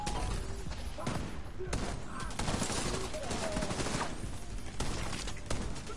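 Gunfire in The Division 2 crackles in sustained bursts and scattered shots throughout, close and busy, with a voice speaking briefly over the firing.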